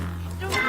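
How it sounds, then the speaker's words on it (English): Low, growling animal-like roar of the Snuffleupagus character from Sesame Street, a steady rumbling drone that swells briefly toward the end of this very short moment. "That's the sound of the Snuffleupagus."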